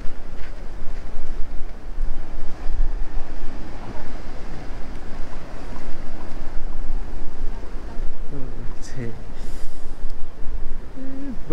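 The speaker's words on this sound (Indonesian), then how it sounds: "Desiran ombaknya" Ocean surf breaks on the beach at Pangasan, Pacitan, East Java, a continuous roar mixed with wind buffeting the microphone, with brief voices in the background near the end.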